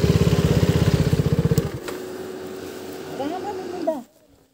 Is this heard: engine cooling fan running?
yes